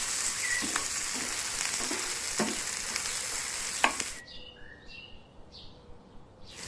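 Ginger garlic paste fries with a steady close sizzle as a spoon scrapes and stirs it in several distinct strokes, then the sizzle drops away, leaving quieter stirring with birds chirping faintly in the background.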